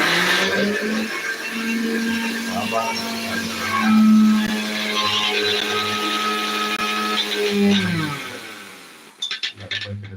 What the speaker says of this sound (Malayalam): ചമ്മന്തി അരയ്ക്കുന്നുണ്ട്